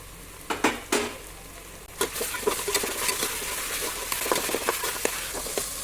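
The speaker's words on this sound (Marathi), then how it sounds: "आता तर त्याच्यामध्ये टॅमॅटो घालून घेते तोही चांगला आपल्याला भाजून घ्यायचे" Capsicum, chillies and tomato frying in oil in a pan for pav bhaji, a steady close sizzle broken by scraping stirs of a spatula against the pan, with no voices.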